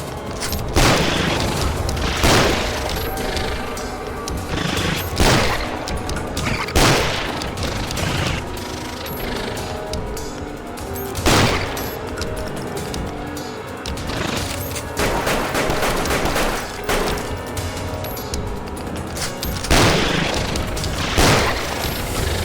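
Heavy shotgun blasts boom at irregular intervals, about ten loud shots over a continuous tense game soundtrack, fired against a giant spider in the survival horror game The Mute House.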